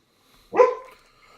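A single sharp bark from a pit bull, sudden and fairly close, fading quickly into a quiet room with no talk over it.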